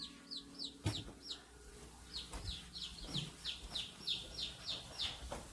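Small chicks peep steadily in a quick series of high, thin chirps, close by and faint, with occasional soft bumps and handling noises.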